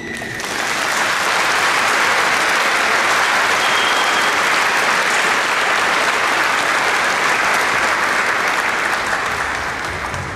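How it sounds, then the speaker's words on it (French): A congregation at a basilica gives sustained applause, a dense, loud roar of many hands clapping that swells in quickly and holds steady for about ten seconds before easing slightly. "Est-ce que nous pouvons applaudir pour vous?"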